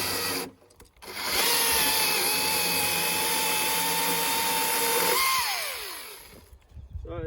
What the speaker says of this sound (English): So that's the Husqvarna 535ixp. Great little saw, I love it.